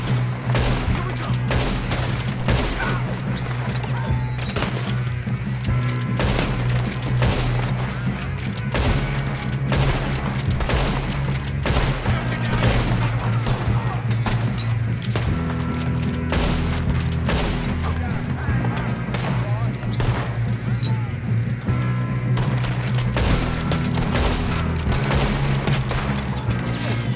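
Heavy gunfire in the Western game Red Dead Redemption 2 on Xbox One: a relentless, rapid barrage of gunshots with booming, crashing hits, loud and dense throughout.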